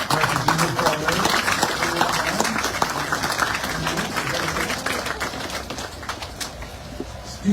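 Applause from an outdoor crowd at a bike park ribbon-cutting and opening ceremony, steady dense clapping held for several seconds with some voices mixed in.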